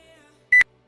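A single short, loud electronic beep from a workout interval timer during a home workout, sounding once after a quiet pause.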